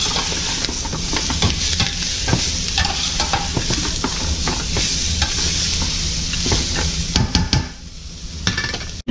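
Pork spareribs sizzle steadily in a hot pan with a continuous frying hiss, while being stirred and tossed, with scattered clinks and scrapes of a utensil against the pan throughout.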